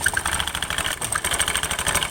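A scooter engine runs steadily with its CVT cover opened up and the worn rollers rattling inside, giving a continuous close whirring drone with a dense mechanical chatter and no talk.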